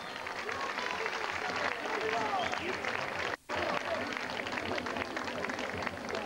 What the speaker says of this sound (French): S'il vous plaît, on l'applaudit comme il se doit.